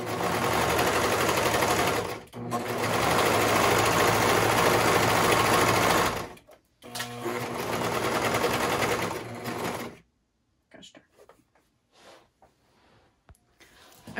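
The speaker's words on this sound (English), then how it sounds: "now we're going to sew along each side until we get to the top peak of the curve" Sewing machine stitching the seam of a slouchy beanie hat, a loud steady mechanical whir in long runs broken by short pauses, then quiet fabric handling at the end.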